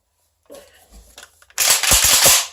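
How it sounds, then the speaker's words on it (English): A DSA FAL 7.62mm rifle being snapped back together, a few light metallic clicks followed by a loud, sharp burst of rattling clacks up close. "And then you want to snap your gun back together like that."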